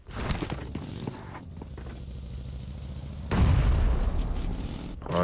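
A grenade goes off in the battle-royale game PUBG Mobile. A deep, rumbling boom bursts out partway through and holds as a heavy roar, after a stretch of muffled in-game noise and movement.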